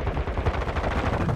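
Rapid gunfire bursts in Call of Duty Warzone 2 during an endgame firefight, loud and continuous with dense overlapping shots throughout.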